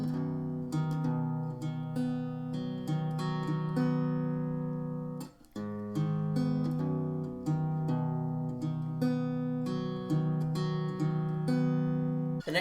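Acoustic guitar fingerpicked intro of a song, with steady plucked notes ringing over open strings in a flowing pattern, close and clear, one brief pause midway, no talking.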